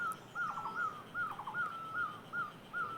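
Small birds outdoors repeat short bright chirping calls at a steady pace, about six phrases over a faint hiss of background ambience, with no talking.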